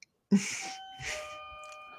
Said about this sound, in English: Yeah, that's, that's my doorbell.